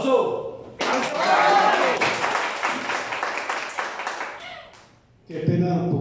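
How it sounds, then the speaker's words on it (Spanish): An audience at a birthday tribute with a youth mariachi band breaks into loud, close applause that swells quickly, carries on for several seconds, fades briefly, then resumes in a fresh burst. "¡Aplauso!"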